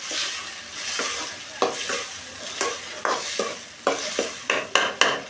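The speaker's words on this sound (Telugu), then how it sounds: "చేసిన తర్వాత బాగా ఇలా కలుపుకోవాలి" Chopped tomato and okra chutney mixture is stirred and fried in a pan, the utensil scraping in repeated close strokes that quicken near the end over a continuous sizzle.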